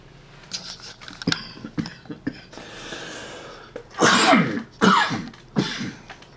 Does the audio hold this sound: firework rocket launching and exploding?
no